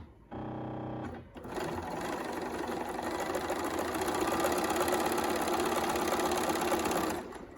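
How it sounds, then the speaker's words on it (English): A Bernina 480 sewing machine stitches along a chalked quilting line. A short tone comes first, then a steady, close mechanical whir runs for about six seconds and stops. "So I'm going to start sewing along this line."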